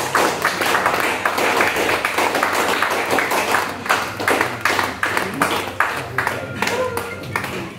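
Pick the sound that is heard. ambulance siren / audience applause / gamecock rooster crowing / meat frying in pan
audience applause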